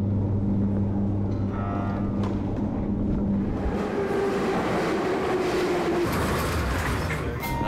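A metro train rides between stations in the capital's underground, a loud continuous rumble and roar with rail hum and tonal whines throughout, no talking.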